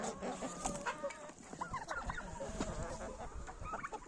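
A group of young autumn-hatched chickens clucks and peeps continuously close by, busy overlapping calls with no talking.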